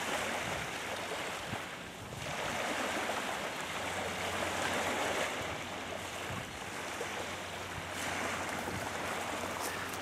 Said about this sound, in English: And the ship is coming in.